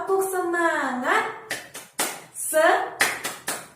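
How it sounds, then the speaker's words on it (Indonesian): A class of children doing a rhythmic 'tepuk semangat' clap in a classroom, sharp hand claps in short bursts of beats alternating with a voice and children speaking. "mari kita lakukan tepuk semangat"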